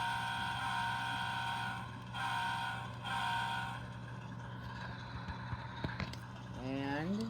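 An NS HO scale model locomotive's horn effect sounds in three blasts, a long one followed by two shorter ones, over a steady engine drone. A voice speaks near the end.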